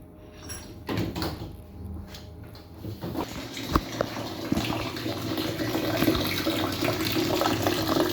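Water running from a tap into a washing machine, starting after a few clunks and a knock and building into a steady, rising rush of flowing water, with no speech.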